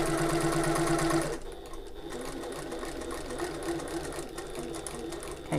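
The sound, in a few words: sewing machine stitching fabric to a mark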